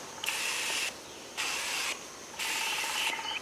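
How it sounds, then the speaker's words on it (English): Three bursts of mosquito bug spray from an aerosol can hiss close by outdoors in a swamp, each lasting about half a second with short gaps between, and no one talking. "This mosquito spray here,"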